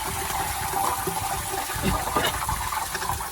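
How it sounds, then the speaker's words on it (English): Water draining and gurgling into the very hot oil pan of a 1979 Ford engine, a steady close rush of liquid with a faint bubbling, boiling hiss throughout. "it's water going down in the oil pan"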